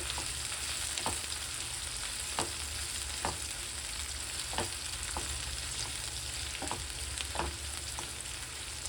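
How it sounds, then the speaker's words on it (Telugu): Sliced onions and green chillies frying in oil in a pan, a constant close sizzle with occasional soft scrapes and knocks of a stirring spoon. "ఇవి లైట్ గోల్డెన్ బ్రౌన్ కలర్ వచ్చే వరకు ఫ్రై చేసుకుందాం"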